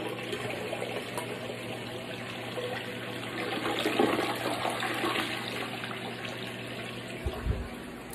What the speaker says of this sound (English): Flushing the toilet for fun.